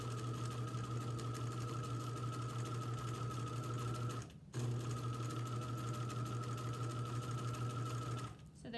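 A sewing machine runs steadily, stitching down fabric over straight pins, with a continuous motor whir and needle rhythm that stops briefly midway, restarts, and pauses again near the end.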